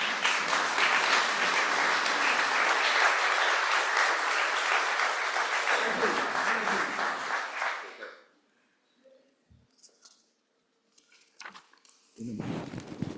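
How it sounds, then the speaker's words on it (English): An audience at a community Kristallnacht commemoration applauds a speaker, with loud, sustained clapping for about eight seconds that fades abruptly into near silence, followed by a few faint sounds and then a voice. "Big round of applause."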